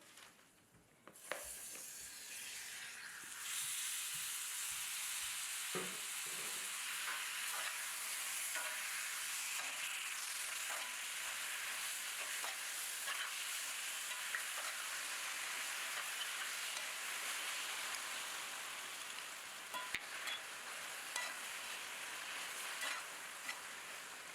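Diced mango for Trinidad mango talkarie frying and sizzling steadily in a hot pan, with occasional stirring scrapes over a continuous crackle throughout, close and fairly loud, no talking.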